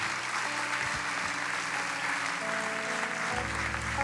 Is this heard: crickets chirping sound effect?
no